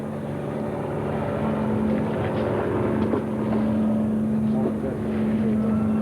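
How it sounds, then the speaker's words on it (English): A helicopter drones overhead at a 1974 high-dive event, with a steady low engine hum and broadband rumble, holding level throughout with faint voices underneath. "Have a helicopter going overhead now,"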